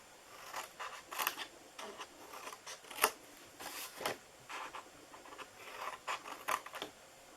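Scissors snipping through cardboard box flaps for a chocolate treat box craft, a series of close, crisp cuts in uneven rhythm with no talking.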